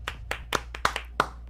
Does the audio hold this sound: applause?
yes